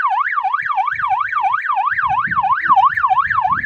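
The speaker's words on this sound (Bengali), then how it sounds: "আপনি এই গাড়ির মধ্যে এই সাইলেন্ট লাগাইছেন কেন?" A police-style siren fitted on a car wails loudly and up close, sweeping up and down in a fast, regular cycle about ten times. Faint low rumbling sounds sit beneath it.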